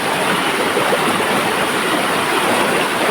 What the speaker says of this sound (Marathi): आणि त्याच्यामध्ये पाऊस आहे ना, कंटिन्यू चालूच आहे.